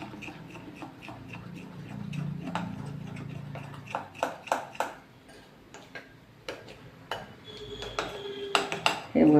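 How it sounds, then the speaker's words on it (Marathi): Dhokla batter mixed with Eno being stirred in one direction in a steel vessel: a rapid run of light clinking and tapping of a spoon against metal, close, growing sharper toward the end, with no talk. "पीठ एकाच डायरेक्शनमध्ये असं हलवायचं आहे"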